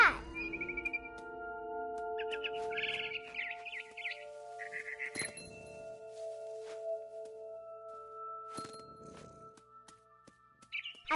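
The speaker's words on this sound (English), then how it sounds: "It was a barn swallow going back to her nest." Chirps from a barn swallow in What Remains of Edith Finch come in short high bursts. Steady tonal game music plays under them and a few soft clicks are heard. No one speaks.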